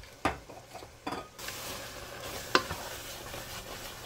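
Red wine being stirred into a simmering meat sauce in a pot, the spoon scraping the bottom; a few clunks and scrapes stand out over a steady soft sizzle.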